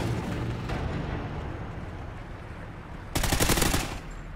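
Honey Badger rifle fire in the Call of Duty Ghosts video game: a dense, loud burst of automatic shots near the end, rising over a steady rumbling game soundscape.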